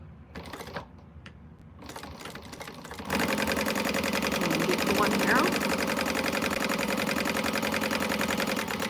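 A sewing machine stitches a quilted cactus bag seam, starting after a few seconds of quiet background talk and then running steadily and loudly with a dense, even mechanical whir until the end.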